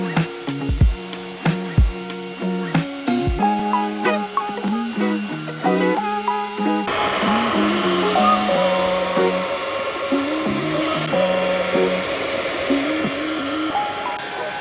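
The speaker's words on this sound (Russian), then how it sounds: "в комплекте с пылесосом идет две насадки, которыми можно пылесосить мебель, машину" A Karcher VC 4s Cordless Plus cordless vacuum cleaner runs with a steady, loud motor whine that starts about halfway through and keeps going, after an opening stretch of plucked, tonal music.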